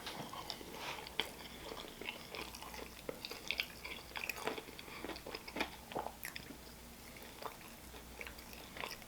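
Close, soft chewing and biting on pulled pork mac and cheese fries, with wet smacks and small crunches in an irregular rhythm, no talking.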